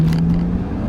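A 2007 BMW 335xi, tuned to about 450 horsepower, accelerates with a steady, loud engine drone and low rumble from inside the cabin, brief and continuous with no speech.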